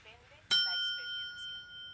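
A small hand bell rung by Tio in Breaking Bad, a single sharp ding that rings on with a lingering metallic tone, heard clearly over faint background murmur.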